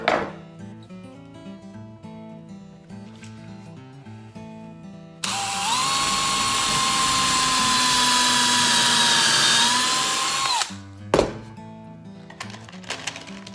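A power drill drives a screw into wood, whining at a steady high pitch for about five seconds and then stopping, with quieter workshop handling noises before and after.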